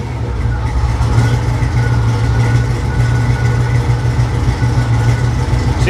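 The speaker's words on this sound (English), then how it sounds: "It's got a nice little idle to it now. The supercharger really mellowed this thing out." A supercharged engine in a Chevrolet Nomad idles steadily and fairly loud, a constant low rumble with a smooth, even tone and no revving, heard on a cold day.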